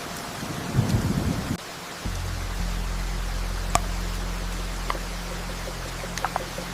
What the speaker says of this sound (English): As the soft, diffused early morning light battles through the heavy, constant drizzle, the cloud forest awakens.